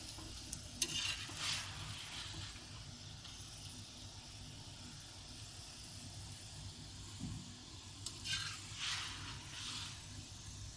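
Raw keema paratha cooking on a hot tawa gives a faint, steady hiss and sizzle, with a couple of brief, brighter bursts of crackle partway through, quiet and close with no speech.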